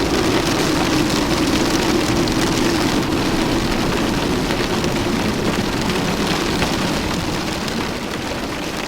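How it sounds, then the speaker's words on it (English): Fierce hail pours down as a dense, loud, continuous roar of pelting impacts, steady and unbroken throughout with no voices. "the silence is drowned out by a fierce hail"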